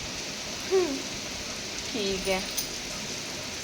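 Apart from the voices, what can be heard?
heavy rain falling outside an open window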